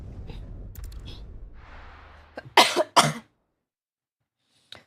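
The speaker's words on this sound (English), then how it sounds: "you miss me coughing every few minutes" A person coughs, two sharp close bursts after some breathing and a throat-clearing rasp, then silence with a faint click.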